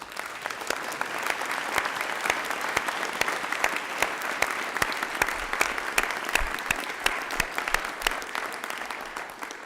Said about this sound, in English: please acknowledge David's service to the Commission with a round of applause